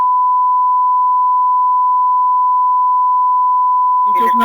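A steady single-pitch beep holds unbroken for about four seconds after a scam phone call is cut off, loud and clean, before a voice starts speaking at the very end.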